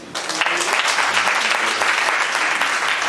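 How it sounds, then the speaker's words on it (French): A crowd applauds steadily at a civil wedding ceremony in Lakota, with dense, even clapping that holds at a loud level for about three seconds. "il faut applaudir."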